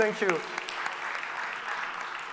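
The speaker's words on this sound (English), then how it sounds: "Thank you for cheering up." An audience at a regional clean energy presentation on Cambodia applauds in a steady, even wash of clapping, following a brief bit of speech at the start.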